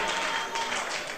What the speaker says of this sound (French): Give the Lord a clap of hallelujah.